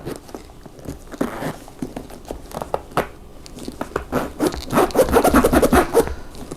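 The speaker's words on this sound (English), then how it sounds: "Might have to put a little bit more wax on that zipper" Scratchy, uneven zipper rasps and rubbing of fabric as a stiff zipper closes on a bag holding a phone, close by, in short bursts that grow denser and louder toward the end.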